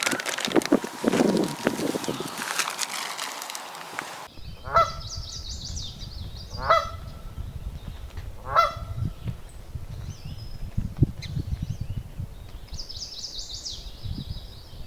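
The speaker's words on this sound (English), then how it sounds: "There's a goose back there." Several loud goose honks ring out in short repeated bursts over a steady outdoor background, with gaps between calls and a brief burst of other noise at the start.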